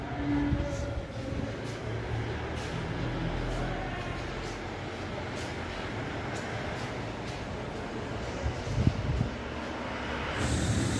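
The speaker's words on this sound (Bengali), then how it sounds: "এইটা দার্জিলিংয়ের টয় ট্রেন আছে, ওয়ার্ল্ড হেরিটেজ টয় ট্রেন আছে এটা।" Darjeeling World Heritage toy train on the narrow-gauge line, a steady low rumble and hiss of rolling stock lasting throughout, with a brief clank near the end and no talk.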